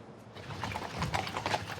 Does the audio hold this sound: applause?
no